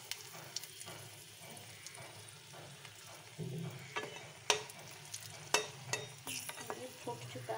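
Whole spices, dry chilli and ginger leaf hit hot oil where cumin has already crackled, giving a steady close sizzle broken by sharp pops and occasional stirring scrapes, with no voices.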